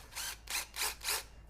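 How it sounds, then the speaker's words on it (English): A drill spins a soft brush against car wheels in four quick, even bursts of whirring and scrubbing, close and fairly quiet, with no talk. "It's a soft brush on a drill."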